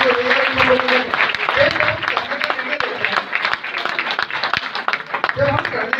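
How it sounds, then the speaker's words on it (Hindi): Seminar audience claps in a loud, steady wave of applause, with a voice speaking over it. "एक बार जोरदार ताली लोगों के लिए, और जोरदार ताली हो रही है उन लोगों के लिए"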